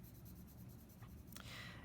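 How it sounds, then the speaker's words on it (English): A 4B graphite pencil tilted on its side shades across paper with a soft, steady scratchy hiss, faint and continuous, with a brief brighter stroke near the end. "so I'm using the 4B, I'm going to tilt my pencil to the side."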